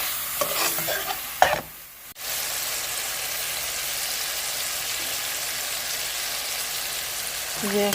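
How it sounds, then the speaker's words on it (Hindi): Half a cup of oil poured into a pan of softened tomatoes for chicken karahi, giving a steady close sizzle and frying hiss that runs nearly the whole time after a brief burst of stirring clatter at the start. "ये हमने आधी प्याली ऑयल शामिल कर दिया है इसमें।"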